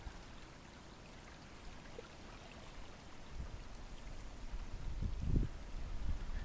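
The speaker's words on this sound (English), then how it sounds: "And the one on this side is really churning up quite a current." A river current churns downstream past an island, a steady rushing wash of water. It builds slightly louder toward the end, with a few low splashing surges near the edge, and no voices.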